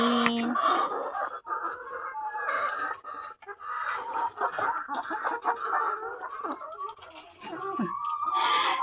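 RTL chickens on a poultry farm cluck and squawk steadily throughout, a dense, close flock chorus with occasional louder calls.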